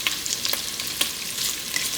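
Sausage and onions fry in a pan with a brief, bright crackling sizzle, dotted with a couple of soft stirring taps.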